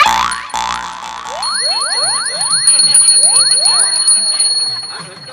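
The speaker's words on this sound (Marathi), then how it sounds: "हा घंटा हलवल्याने तुझे शनी गायब होऊन जाईल" A bell rings steadily with repeated bright metallic strikes, joined by swooping, rising tones over a sustained ringing shimmer.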